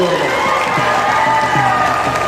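Crowd at an outdoor political rally marking Umaji Naik's birth anniversary, with dense sustained applause and cheering throughout, loud and continuous, while a voice is also heard over it.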